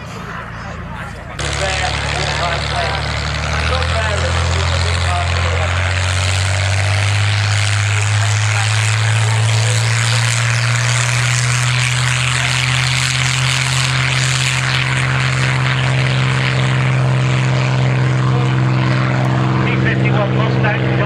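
A P-51 Mustang piston-propeller fighter performs at an airshow, its engine rising from a sudden onset into a loud, sustained droning roar with a steady pitched tone, while people talk underneath it.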